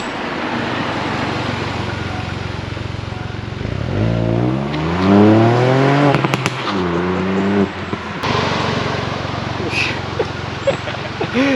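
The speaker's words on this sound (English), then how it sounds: "it actually makes a really good raspy noise from the exhaust" Exhaust of a 2022 Ford Fiesta ST facelift being revved: an idle rising into several raspy rev sweeps, then sharp pops and crackles from the exhaust, close and loud, settling back toward idle.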